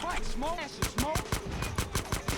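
Bursts of gunfire in Grand Theft Auto San Andreas crack out in a rapid irregular series of sharp shots, with talk heard over the opening moments.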